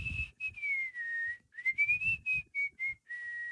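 A person whistles a wavering, quavering tune with vibrato, close and clear, in a string of short and sustained notes over a quiet background with some low breathy noise.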